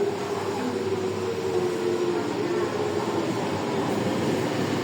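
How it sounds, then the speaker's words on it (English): A Hong Kong MTR Tuen Ma Line train rumbles steadily nearby between Sha Tin Wai and Ma On Shan, a continuous mechanical roar with a faint tonal whine, no voices. "The train to Wukaisha is arriving."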